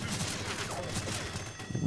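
Dense gunfire in the Left 4 Dead 2 video game during a tank fight on a custom map, loud and continuous bursts with crashing impacts throughout, occasional voices mixed in.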